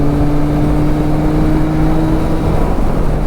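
A 2021 Yamaha MT-09 SP motorcycle pulls hard in sixth gear, its engine a steady loud drone with a rising tone under heavy wind rush, continuous and close.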